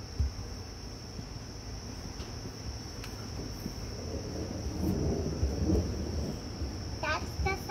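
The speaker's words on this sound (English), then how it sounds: "That's the thunder." Distant thunder from a storm approaching Ottawa rumbles low and broad, swelling midway, while crickets chirp steadily in the background and faint voices come through.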